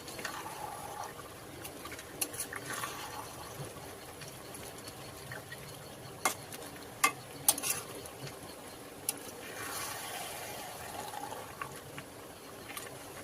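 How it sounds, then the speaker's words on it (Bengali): Mutton with spices is stir-fried in a pan, giving a low, steady sizzle with scattered scraping and clinking of a utensil against the pan, close and fairly quiet, with no talk. "মশলার সাথে মাটনগুলো এবার ভালো মতন আমি কষিয়ে নেব।"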